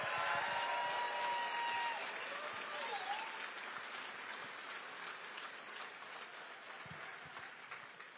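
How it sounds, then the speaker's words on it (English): Town hall audience in Greensboro, North Carolina applauding veterans, a broad, sustained wash of many hands clapping that fades slightly, with a few faint voices under it. "Give them a round of applause."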